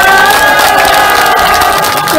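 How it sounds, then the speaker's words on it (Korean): An audience at a political party leader's book launch gives loud, sustained applause mixed with cheering and whoops, a dense crowd roar holding steady throughout. "여러분 다시 한번 큰 박수 부탁드립니다"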